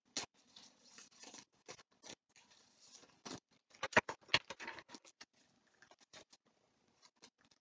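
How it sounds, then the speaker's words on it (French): Large tarot cards being shuffled by hand, giving irregular papery riffles and soft slaps in quick bursts with brief pauses, fairly quiet and close, with no voice. "Je vais les mélanger comme ça parce qu'elles sont grandes celles-ci."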